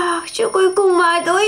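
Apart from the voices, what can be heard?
alarm clock ringing in Avatar World video game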